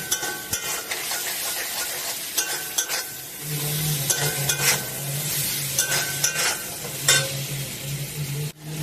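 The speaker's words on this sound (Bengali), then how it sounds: "সবজিটা আমার ভাজা হয়ে গেছে," Vegetables with chopped carrot and capsicum stir-frying in a pan for chicken chow mein, a steady close sizzle with repeated scraping and stirring strokes throughout, no talking.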